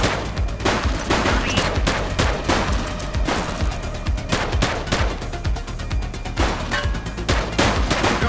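Video-game gunfire in The Precinct, a police shootout on city streets: rapid, loud bursts of overlapping shots crackling continuously, dense and close with no pauses.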